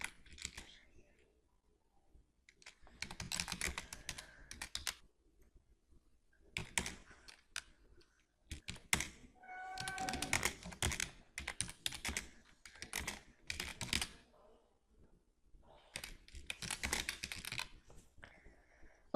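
Typing on a computer keyboard while writing in a document, with brisk clusters of key clicks separated by short pauses, close and clear with no talking.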